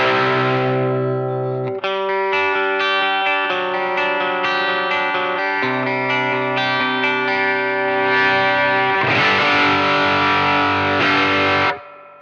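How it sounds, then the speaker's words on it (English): Overdriven electric guitar run through a Cali76 FET compressor, heard alone as sustained, dense chords ringing steadily across the clip with an even, squashed loudness and a brief cut near the end. "this approach can add a kind of studio finish to your tone"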